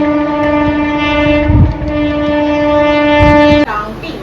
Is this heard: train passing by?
yes